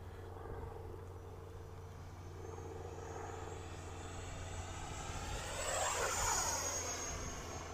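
A Freewing 64mm F9F Panther RC jet plane flies past with a steady whining ducted-fan roar, rising and sweeping in pitch as it swoops closer around the middle, loud and alone without talk.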